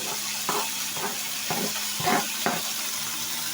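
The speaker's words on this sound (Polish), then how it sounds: "No i sobie powoli smażymy na średnim ogniu" Ground meat and onion, seasoned with salt, pepper and sweet paprika, sizzle in a pan over medium heat, with a soft continuous crackle and several scraping stirs at regular intervals.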